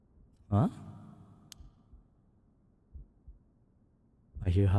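A low heartbeat pulses faintly in the horror video game Paranormasight, a few soft thuds spread across a quiet stretch between short bursts of a voice.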